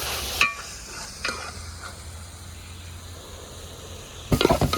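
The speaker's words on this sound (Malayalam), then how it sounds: "നല്ലപോലെ ഇളക്കി" A spoon stirs chicken curry frying in a pan with coriander, mint and curry leaves, giving a soft steady sizzle with a few scraping clicks near the start and a louder burst of clatter at the end.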